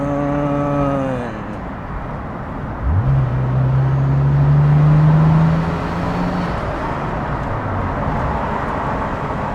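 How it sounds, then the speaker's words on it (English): A Nissan Skyline GT-R R34 turbo engine revs up into a loud, rising whine that holds for a few seconds before easing back, with steady road rumble throughout. "Oh, you see the turbo sound? Isn't that pretty awesome?"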